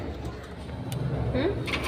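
Pet doves give a short, soft coo nearby. The call is brief and rises over faint background noise.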